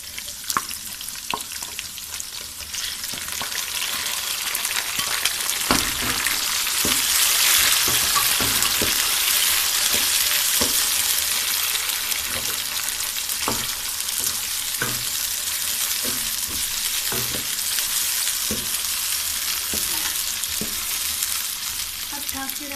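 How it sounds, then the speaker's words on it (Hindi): Onion and tomato frying in a pan, a loud continuous hiss and sizzle that swells after a few seconds, with scattered scraping stir clicks close by and no talk. "अब हम प्याज और टमाटर एक साथ डाल देते हैं।"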